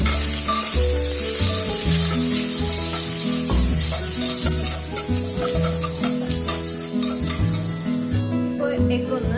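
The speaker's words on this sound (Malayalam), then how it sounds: "ഇനി ഇതിനകത്തേക്ക് നമുക്ക് മുട്ട ഇട്ട് കൊടുത്തിട്ടൊന്ന് ഫ്രൈ ചെയ്തെടുക്കാം." Eggs frying in coconut oil in a pan give a steady, close, hissing sizzle under rhythmic background music.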